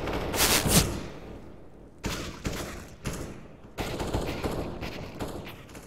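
Automatic weapon fire in the Counter-Strike: Global Offensive video game: loud sustained bursts of rapid shots, with a pause, then further spraying and a longer stream of gunfire.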